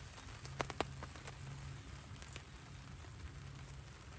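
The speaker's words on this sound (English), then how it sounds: "As you can hear, it's starting to rain again." Rain begins to fall on a small Nash camo fishing hide, a soft, steady patter of drops on the fabric with a few sharper taps, faint and close, with no voices.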